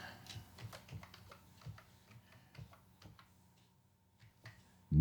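Close, quiet keystrokes on a computer keyboard land in an irregular burst of clicks, thinning out toward the end, with no talking over them.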